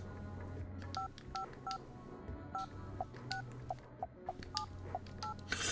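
A phone in the video game Silent Hill: Shattered Memories is dialed, giving a series of about a dozen short touch-tone beeps in an uneven rhythm over a soft background hum.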